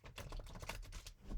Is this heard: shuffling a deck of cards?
yes